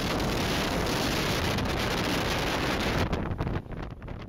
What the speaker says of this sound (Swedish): Vinden hade tilltagit ganska ordentligt nu.